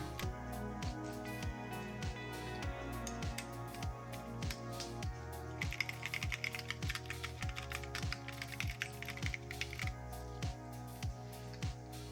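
Keystrokes on a custom keyboard fitted with Drop MT3 ABS keycaps, a steady run of close, clacky presses that continues over rhythmic background music.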